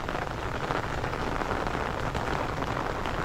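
Steady first-monsoon rain pattering on a surface in a village, a dense, even wash of droplets with no talking.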